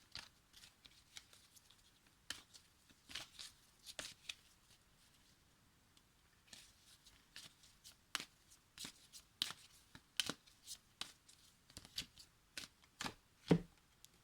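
An oracle card deck is shuffled by hand in repeated crisp riffling bursts, with brief pauses between them, close and fairly quiet, with no talking.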